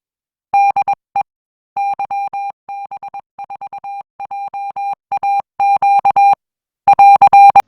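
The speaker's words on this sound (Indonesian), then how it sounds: "tentang bagaimana mengenal bunyi atau nada dari dasar kode Morse internasional" Steady international Morse code tone keyed on and off in short dits and longer dahs, a clean loud beeping pattern with brief pauses between groups, no voices.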